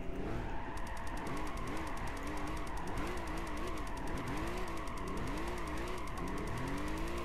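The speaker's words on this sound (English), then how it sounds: "this is another car that sounds really good with a racing titanium exhaust" A RUF CTR2 fitted with a racing titanium exhaust, driven in Gran Turismo 5 while drifting, roars loudly and continuously, its revs swooping up and down with faint tire squeal mixed in.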